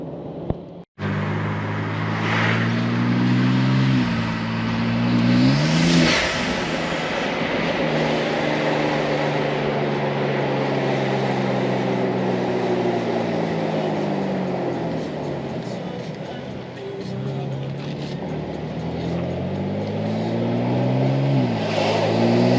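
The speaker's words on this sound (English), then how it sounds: "if I want to belt it and I want to hear some whoosh, it's available for me" A BMW M4 G82 fitted with an MST cold air intake revs repeatedly, loud and close. The engine note climbs and falls in several sweeping blips over a steady, throaty idle.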